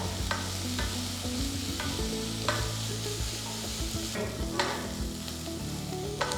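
Chopped onions fry with a pinch of salt in a pan, a steady sizzle broken by repeated stirring scrapes at a fairly even rhythm, close up and with no talk.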